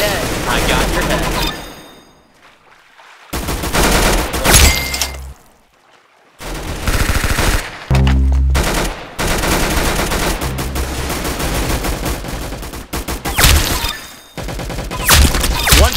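Roblox Arsenal gunfire, loud bursts of rapid shots and single cracks broken by brief silences, heavy game music and effects throughout, with a voice talking in places.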